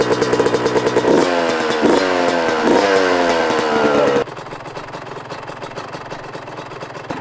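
A dirt bike engine idles close by with a steady, throaty putter, revving up a few times before settling to a lower, even idle.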